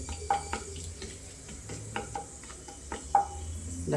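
Whole cinnamon, cloves and cardamom fry in hot oil as the start of paneer butter masala: a soft, continuous sizzle broken by occasional utensil clinks and stirring taps, heard up close with no voices.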